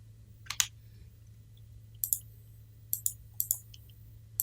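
Mouse clicks while working in Wilcom Embroidery Studio e4.2 software: scattered sharp double clicks, close and clear, over a steady low hum with no talk.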